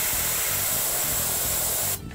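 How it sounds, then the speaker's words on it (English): An airbrush sprays thin Khardic flesh paint onto a miniature, a steady close hiss of air that holds for about two seconds and then cuts off. "So we have our Khardic flesh here in the airbrush."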